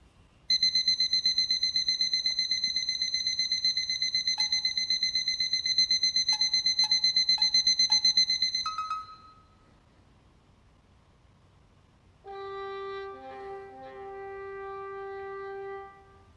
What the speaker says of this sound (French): Le clavier va signaler l'alarme